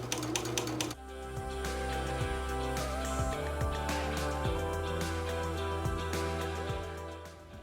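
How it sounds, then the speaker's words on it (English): A sewing machine stitching straight lines on a practice quilt, a steady close mechanical hum with a regular light ticking rhythm after a brief clattery start. "Sink your needle right on the first line at the middle, bring your presser foot down and start stitching."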